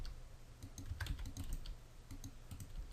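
Keyboard shortcuts tapped out on a computer keyboard during Blender modeling, a quiet, close cluster of irregular clicks and key presses in short bursts with brief pauses, and no talk.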